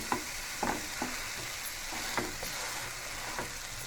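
A vegetable and cheese sandwich pressed down in a pan, cooking with a soft steady sizzle and a few scraping clicks from the press, no voices.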